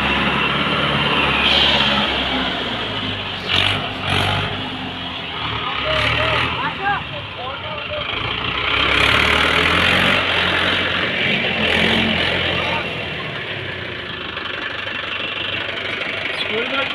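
A tractor engine runs steadily while the tractor reverses at an outdoor site being prepared as a volleyball ground, a continuous low, rumbling drone close by with some voices faintly audible in the background.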